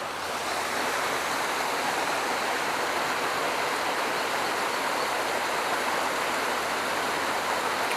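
A waterfall pours over rocks in a steady, dense, close roar that never lets up, loud and uniform with no talk over it.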